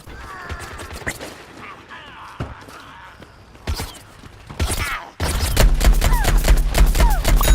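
Camo Ranger's primary weapon firing in Plants vs Zombies: Garden Warfare, a burst of sharp repeated shots with mechanical clicks and creaks, then a louder, denser stretch of game action near the end.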